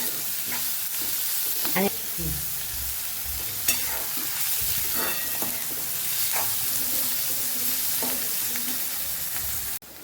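Manchurian mixture sizzles and fries steadily in a pan while a spoon stirs it, scraping and clinking in a few brief strokes over the constant hiss; a single word is spoken briefly.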